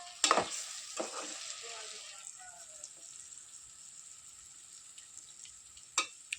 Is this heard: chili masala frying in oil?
yes